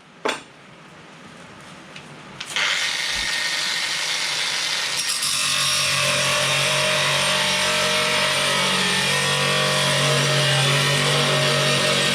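A power cutting tool slices metal body panel pieces for welding on a 1982 VW T3 single cab, starting with a sharp knock, then spinning up into a loud, sustained harsh grinding whine that runs close and unbroken to the end.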